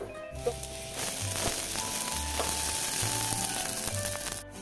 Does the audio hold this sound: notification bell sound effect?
no